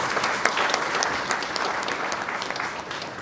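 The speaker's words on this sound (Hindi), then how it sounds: "जोरदार ताली बजा" Steady, dense applause from an audience at a film announcement press conference, sustained and fairly loud throughout with no talking over it.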